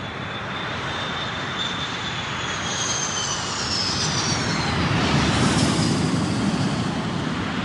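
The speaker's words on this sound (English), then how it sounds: "the massive Pratt & Whitney F-100 turbofan engines, part of the secret of the Eagle's phenomenal performance," Twin Pratt & Whitney F-100 turbofan engines of an F-15 Eagle spooling up to takeoff thrust on a runway, a loud sustained roar with rising whine that swells toward the end.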